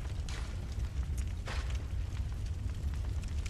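Cannon fire in the video game Bloodborne: booming blasts over a dense, continuous low rumble, loud and close, with no talking.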